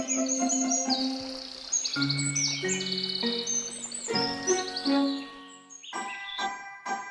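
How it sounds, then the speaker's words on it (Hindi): Bright, high bird chirps and tweets repeat in quick varied phrases, clear and close, with no talking, in a cartoon. "चिड़िया पेड़ के पास ही उड़ रही है और ची ची करके शोर मचा रही है।"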